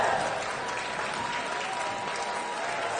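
A graduation ceremony audience applauds, a dense, steady wash of clapping from a large crowd lasting throughout, fairly loud and without speech on top.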